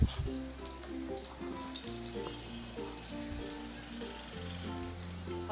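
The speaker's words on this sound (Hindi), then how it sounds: "हम इसके अंदर चाइनीज़ कटलेट्स ऐड कर देंगे इस तरीके से" Chinese cutlets frying in hot oil over a medium flame, a steady close sizzle with crackles and pops throughout, no voices.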